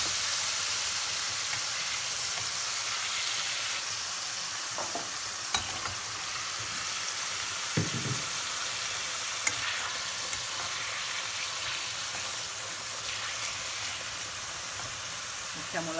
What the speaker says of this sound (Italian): metto il vino. Lo rigiriamo nel vino per bene